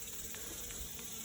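Honeybees swarming inside a hay baler in Texas, a faint, steady buzzing hum with a thin high whine and no voices.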